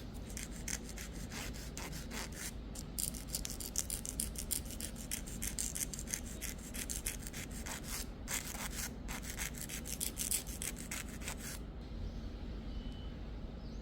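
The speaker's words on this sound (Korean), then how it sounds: "먼저 이 구간을 갈아 볼게요." A nail file rubs back and forth over an artificial nail tip extension in a quick, steady rasping rhythm, close and fairly quiet, continuing with brief pauses throughout.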